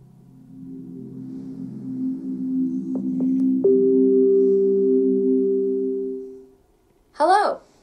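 An Echo Dot Max smart speaker, just plugged in, plays its startup tone, a sustained, swelling hum with a few plucked notes that fades out, then a quick rising chirp at the end.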